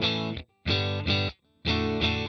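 Dry electric guitar with no delay, played through a digital delay pedal with the effect off: three bright, gritty chord hits, each cutting off cleanly into brief silence.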